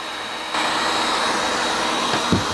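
Heat guns powered through a GIANDEL 24V 3000 watt inverter kick on with a sudden step into a loud, steady blowing roar that holds evenly, with a brief thump near the end.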